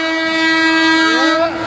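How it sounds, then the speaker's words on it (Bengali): An electric train running on overhead power lines in Assam sounds its horn: a loud, sustained tonal blast held close by for over a second, dipping in pitch as it fades at the end. "এয়া কারেন্ট ইঞ্জিনৰ ট্রেন কারেন্টত চলে"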